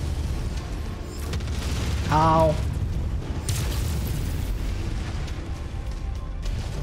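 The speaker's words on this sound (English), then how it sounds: "It's got an AC-20 burst fire!" Heavy AC-20 burst-fire autocannon blasts from an enemy mech in MechWarrior 5: Mercenaries, booming loud over constant battle rumble, with someone talking briefly.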